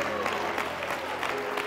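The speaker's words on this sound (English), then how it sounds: "let's clap our hands to the Lord" A church congregation claps along during a sermon, a steady, dense wash of many hands with rhythmic swells, fairly even in loudness throughout, with faint voices mixed in.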